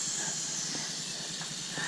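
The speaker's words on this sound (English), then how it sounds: "we just drove it for the last time, and we sprayed our penetrating oil" Penetrating oil sprayed onto a hot turbo exhaust manifold on a Miata-powered kart hisses in a steady, close, continuous sizzle with no pauses.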